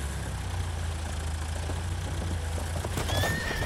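A horse neighs loudly near the end in the Battlefield video game, heard over a steady low vehicle engine drone that runs the whole time.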